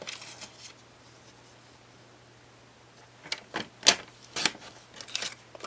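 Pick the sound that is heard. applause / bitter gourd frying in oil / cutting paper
cutting paper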